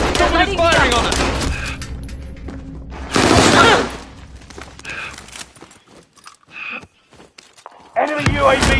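Video game gunfire erupts in loud bursts and rapid volleys at close range, pausing briefly before resuming, mixed with game voices and effects, while players talk over the action.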